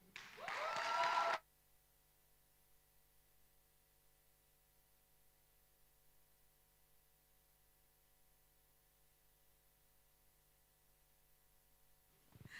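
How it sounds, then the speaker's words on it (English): A short, loud burst of audience applause at a startup demo day summit lasts barely more than a second and cuts off abruptly into near silence. "Can we please applaud the founders once again?"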